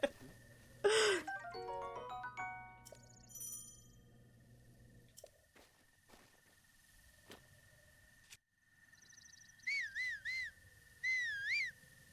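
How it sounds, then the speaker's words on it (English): Two short rising-falling whistle calls from the player character in Zelda: Breath of the Wild / Tears of the Kingdom, heard near the end over quiet game ambience and scattered soft chimes. "I do love that whistle sound."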